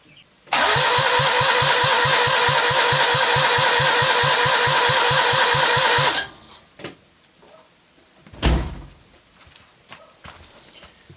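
A Citroën 2CV's replacement engine cranks in a loud, rapid, even rhythm for about six seconds without catching, then stops, followed by quieter clunks and handling noises.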